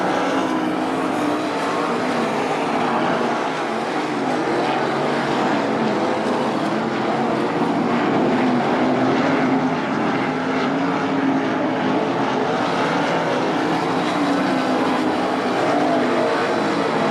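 Race cars roaring around the track during a heat race at Attica Raceway Park, a dense, continuous loud engine drone that swells and holds without a break.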